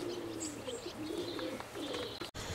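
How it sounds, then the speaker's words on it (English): Racing pigeons coo inside a long-distance racer's loft in New Milton, soft repeated throaty calls rising and falling over a quiet room, with a few faint chirps between and a brief bump near the end. "We're visiting one or two pigeon lofts, and this is Les Kidd of New Milton"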